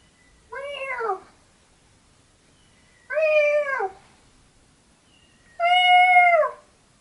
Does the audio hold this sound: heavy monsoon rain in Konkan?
no